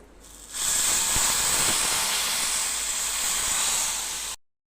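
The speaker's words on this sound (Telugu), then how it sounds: "మనం ఇప్పుడు ఇదే చట్నీలో మనం పోపు పెట్టుకున్నాం కదండి" Hot oil tempering of mustard and cumin seeds is poured into chutney and gives a sudden loud, steady hiss that holds for about four seconds, then cuts off abruptly.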